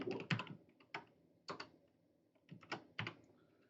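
Keystrokes on a computer keyboard while entering Java code, arriving in short clustered bursts with pauses between them, crisp and close with no voices.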